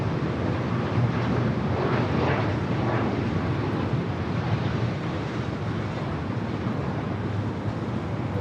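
A Hawaiian airliner on short final to runway 24 right at LAX, a steady, broadband roar of jet engines that holds evenly throughout with wind-like rushing noise and no talk.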